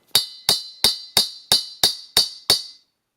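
Eight sharp metallic hammer taps on an extension socket driving a Thunderbolt Model 2 chopper onto an armature shaft strike at an even, steady rhythm, each ringing briefly, close and clear with no talking.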